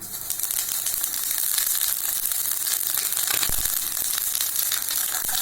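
Fennel seeds fry in hot oil in a kadai, giving a loud, steady crackling sizzle close up with small sharp pops, and no talk.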